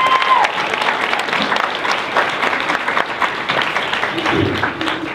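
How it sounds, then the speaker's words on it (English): A crowd at a student government forum about Dr. Llorens breaks into loud, sustained applause, with scattered cheers and shouted voices rising through the clapping and a brief whoop near the end. "So give yourselves a round of applause."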